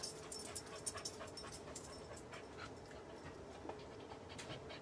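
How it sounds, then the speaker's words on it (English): A dog panting steadily and quietly nearby after coming in from outside, a soft continuous breathy rhythm in an indoor room. "If you're hearing panting, the dog just came in from outside."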